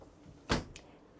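A small pull-up freezer door inside an Aliner Classic camper's refrigerator closes with one quick, soft thump and a faint click afterward, against quiet room tone.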